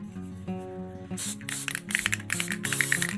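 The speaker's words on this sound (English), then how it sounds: "spray a little bit of this Craft Bond spray adhesive on the pumpkin" A Craft Bond spray adhesive can hisses in several short, loud sprays onto a pumpkin, starting after a brief rattle and hum.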